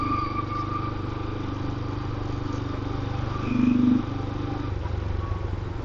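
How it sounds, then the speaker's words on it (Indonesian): A motorcycle engine warms up, idling steadily close by with a brief rise in revs partway through. "untuk manasi motor kita"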